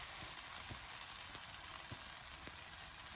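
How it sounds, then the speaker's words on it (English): Pancake batter sizzles steadily in a hot frying pan, a dense continuous crackle close by, with a few soft clicks of a utensil and no talking. "I'm going to turn this down because it is sizzling."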